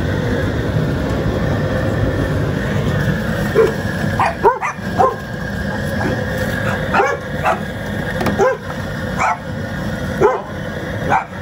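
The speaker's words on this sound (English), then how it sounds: "Don't mind the dogs." Several dogs bark in the background of a kitchen during a Cajun seafood boil, repeated bursts of barking against a steady low rumble and cooking noise, fairly near and loud.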